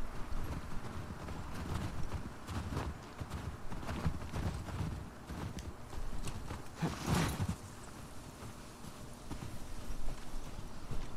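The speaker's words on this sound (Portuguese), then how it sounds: "Não, o cavalo não passa aqui." Horse hooves clip-clopping in The Last of Us Part II, a quiet, irregular patter of hoof steps that runs throughout under a soft background of game ambience.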